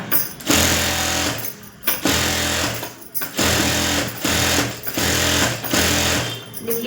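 A sewing machine stitches a lace border onto the back neck strip of a blouse, running in loud bursts of rapid mechanical whirring separated by short pauses, close up with no talking.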